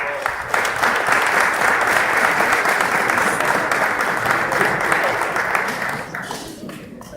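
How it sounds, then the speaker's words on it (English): A banquet audience applauds the parents at an end-of-year boys basketball dinner, a loud, dense, steady round of clapping filling the room for about six seconds before tapering off. "Please give your parents a round of applause."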